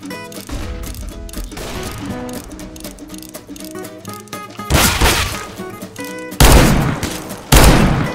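Gunfire in CS:GO, likely the Dual Berettas and revolver: several loud, sharp shots burst out over a background of game music and ambience, with the heaviest cracks landing near the end.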